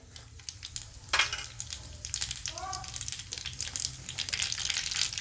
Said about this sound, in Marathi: तेल गरम झालेले मोहरी टाकले मोहरी तडतडायली